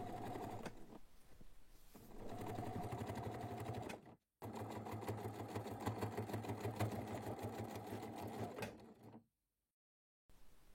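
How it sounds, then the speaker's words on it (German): A sewing machine topstitches close to the upper edge of a large shopper tote at 3 mm stitch length, humming steadily in two long runs separated by a short pause, then stopping into silence, near and moderately loud. "Noch ein letztes Mal geht es an die Nähmaschine und zwar wird die obere Kante knappkantig abgesteppt."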